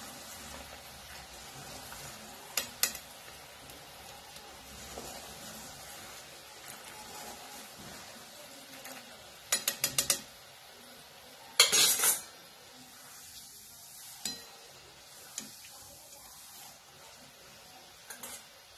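Peanuts frying in oil for maize chivda, with a quiet background sizzle broken by scattered metallic clinks and bursts of spoon scraping against the pan, some in quick clusters.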